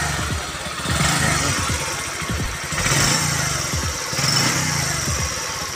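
A Kawasaki CT100 motorcycle engine, repaired after input shaft damage, runs steadily nearby, its loud, even putter rising and falling slightly in a smooth idle.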